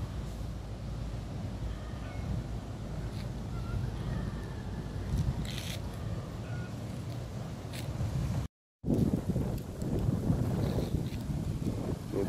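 Strong, steady wind roars and buffets the microphone in a village near a sandblasting site, a dense continuous rush with a brief drop to silence before it resumes just as loud.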